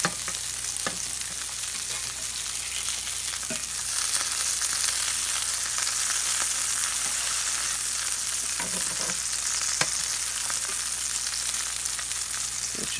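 Meat searing in a cast iron pan gives a steady, close sizzle and crackle that runs unbroken for the whole stretch, with occasional sharper pops and no one speaking.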